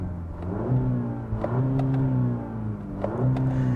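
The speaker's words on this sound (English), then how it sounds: "The button to start the engine is over here." A 2020 Cadillac CT4-V sport sedan's engine hums at a steady, fairly loud idle up close, with small rises in pitch and a few brief clicks, and no one talking.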